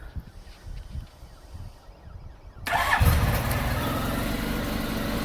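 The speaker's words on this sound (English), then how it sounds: "Because I'm holding the clutch, it started" A motorcycle, in gear with the clutch held, comes to life after a few seconds of quiet handling noises, its engine catching abruptly and then settling into a steady, close idle.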